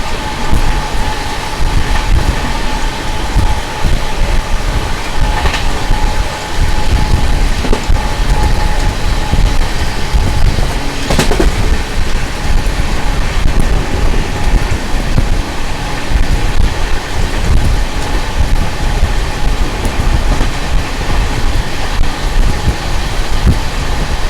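A daily passenger train between Arsikere and Kadur in India, a steady loud roar of the moving coach with wheel rumble and rattling, continuous throughout without talk.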